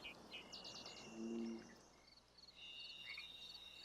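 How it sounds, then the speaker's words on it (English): Western toad calling in a damp Olympic Mountains rainforest, a faint, brief croaking note amid quiet chirps of birds and insects in the background. "The western toad is not so much looking for a meal as it is waiting for one."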